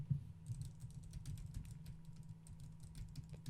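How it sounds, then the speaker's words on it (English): Rapid, clattering keystrokes on a computer keyboard, struck hard in an uneven rhythm, sound close but fairly quiet over a steady low hum from a PC fan. "I'm hitting the keys quite loudly there"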